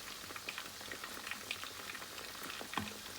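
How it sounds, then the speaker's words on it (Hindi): Chicken pieces frying in oil over medium heat, a steady close crackle and bubbling with scattered pops, fairly quiet and continuous, with no voices. "चिकन जो है हम लोग दरमियानी आंच पर फ्राई कर रहे हैं"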